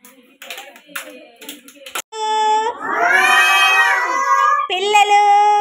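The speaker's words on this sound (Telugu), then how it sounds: "క్లాప్స్ కొట్టండి." Anganwadi children clap in a brief flurry of sharp, uneven slaps, then break into loud, high shouting and sing-song voices that carry to the end.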